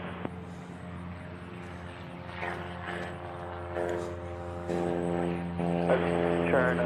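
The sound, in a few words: Southwest Airlines jet arriving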